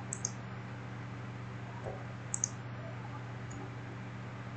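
A computer mouse gives a few faint, sharp clicks, spaced irregularly, over a steady low background hum during Photoshop or Photopea editing, with no talking.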